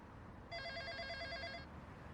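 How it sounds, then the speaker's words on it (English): A telephone rings once in a short burst of repeated electronic trills, clear and moderately loud over a low background hum, without talk. "a phone call?"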